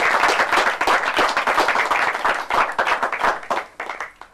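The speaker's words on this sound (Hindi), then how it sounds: "मैं चाहूंगा एक बार जोरदार तालियों से डॉक्टर सुनील जोगी का आप स्वागत करें।" Loud, dense applause from a Hindi comedy gathering audience welcoming poet Dr Sunil Jogi, continuous rapid clapping throughout before thinning slightly at the end.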